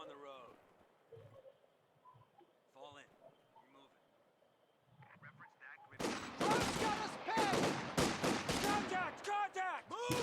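Machine-gun fire bursts in a World War II–style strategy video game, starting with faint distant pops and scattered shots, then erupting into loud, rapid, sustained automatic fire and fusillades in the second half, mixed with in-game voices.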